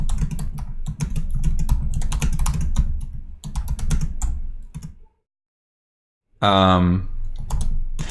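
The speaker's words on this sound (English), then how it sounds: "I'm typing out the question to make sure that everyone knows." Fast, steady clicking of keys on a computer keyboard, up close, broken by a pause of silence and a brief vocal sound before typing resumes.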